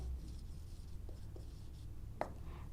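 A pen scratches out a maths solution on paper, faint and close, with a few short strokes and one sharper tap against a quiet room hum.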